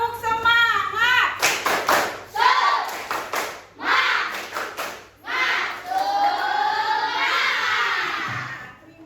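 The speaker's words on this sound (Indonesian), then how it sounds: "Tepuk semangat." Schoolchildren in a classroom perform a rhythmic spirit clap, bursts of hand claps alternating with loud chanted shouts and calls.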